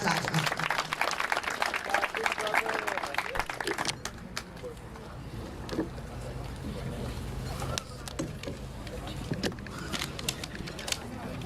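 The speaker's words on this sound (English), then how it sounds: "Please clap." An audience at a football academy summer camp ceremony claps for a guest speaker, loudest over the first four seconds and then thinning to scattered claps under crowd murmur and background noise.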